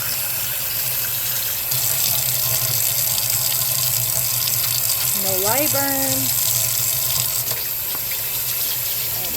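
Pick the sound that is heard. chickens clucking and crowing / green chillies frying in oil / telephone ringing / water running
water running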